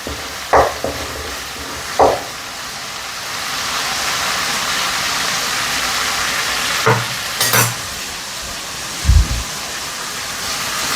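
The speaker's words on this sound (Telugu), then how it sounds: "ఇది చూడండి, నేను ఇప్పుడు బాగా రోస్ట్ చేస్తున్నాను" A loud, steady sizzle fills the pan as masala roasts before chicken goes in for a simple chicken fry, broken by a few scattered knocks and scrapes of the stirring spoon.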